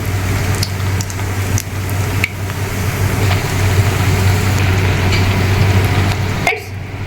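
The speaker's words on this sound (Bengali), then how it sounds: "এবার আমি নান পুরিগুলোকে তেলের মধ্যে ছাড়ছি" Naan puri deep-fries in hot oil with a dense, continuous sizzle and bubbling heard up close, a low steady hum running underneath, and a few faint clicks scattered through; no one speaks.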